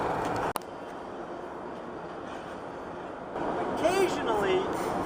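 A freight train with rock hopper cars rolls past with a steady rumble, a swell of noise partway through, then metallic wheel squeals near the end.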